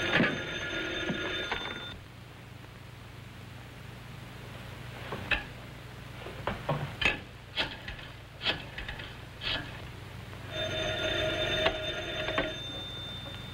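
An old-fashioned telephone bell rings in two long bursts at the start and end, fairly faint, with clicks and shuffling in a quiet room between the rings.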